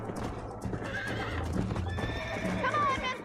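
A horse in Red Dead Redemption whinnies and its hooves clop close by during gameplay, loud and lively over a low background, with people talking over it.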